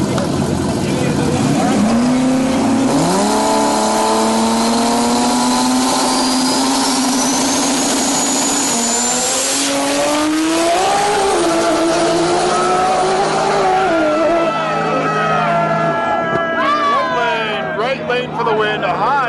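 A small tire drag race car in a final round, accelerating hard down the strip as its engine note climbs through the gears, loud and sustained, with voices faintly present beneath the roar.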